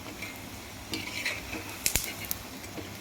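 Maida and wheat bonda fry in hot oil, a close bubbling sizzle punctuated by a few sharp clinks and scrapes as the pieces are turned, with no voices.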